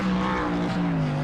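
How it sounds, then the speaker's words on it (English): A race truck doing a donut on a short oval at North Wilkesboro, with a loud engine and sustained squealing, skidding tires right up close, the engine pitch wavering as it spins. "Perfect donut."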